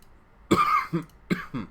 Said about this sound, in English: Sorry about my cough, by the way.